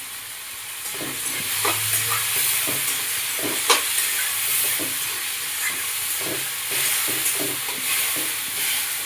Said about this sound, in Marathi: 2 ते 3 मिनिटं असं छान असं मिक्स करून घ्यायचं छान आपल्याला